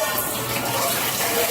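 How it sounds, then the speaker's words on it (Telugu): Water pours steadily into a cooking pot of country chicken for biryani, a continuous splashing gush close by with faint background noise. "కొద్దిగా వాటర్ వేసి"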